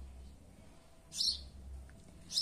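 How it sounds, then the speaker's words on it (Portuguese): A small bird singing loudly in a tree outdoors, two bright chirping bursts about a second apart over a low rumbling background. "Cantando forte, passarinho aqui na árvore"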